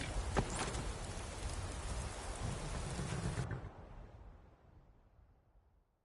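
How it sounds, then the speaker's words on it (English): Rain pours steadily in the video game Skyrim, a dense hissing downpour with a low rumble, then the sound suddenly thins and fades away over the last few seconds, with no talk. "This rain will stop eventually."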